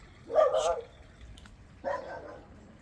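A dog gives two barks close by, the first longer and whiny, the second shorter, separated by a brief pause.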